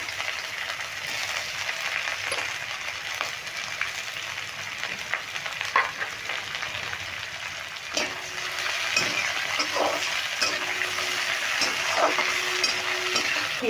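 Long-sliced onions fry in a pan as they cook for a fish-roe curry: a steady, moderate sizzle hisses throughout, with occasional clinks and scrapes of stirring and no talk.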